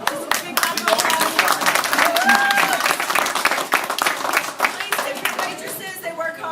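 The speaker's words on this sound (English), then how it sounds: "This is a big round of applause." A restaurant crowd gives a big round of applause, with dense, steady clapping filling the room at close range and a voice heard over it.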